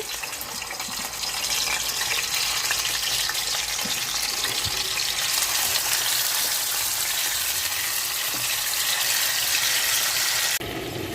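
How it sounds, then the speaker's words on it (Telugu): Fish pieces fry in hot oil in a pan, giving a steady loud hiss and sizzle that stays even throughout, with no talking. "ఇప్పుడు చేప మొక్కలు వేసేసుకుందామండి ఆయిల్లోని బాగా ఎర్రగా వేయించేసుకోవాలి"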